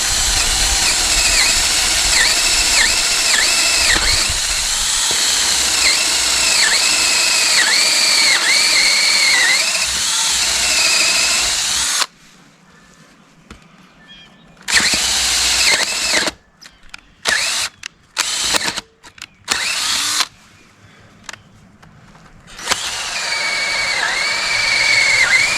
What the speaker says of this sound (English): Now we'll drill this bottom one here.